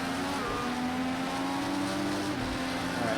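An IndyCar engine in Project CARS 2 at COTA drones loud and steady, its pitch stepping down as it downshifts into a corner.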